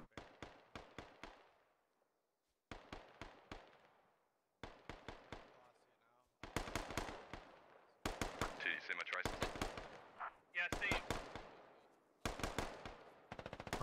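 Distant machine-gun fire in the video game Squad comes as repeated short bursts of sharp reports with brief pauses between them, growing denser and louder toward the middle. A voice talks quietly under some bursts.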